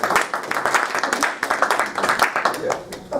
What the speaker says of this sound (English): So please, a huge round of applause for Dr. Anurag Shankar.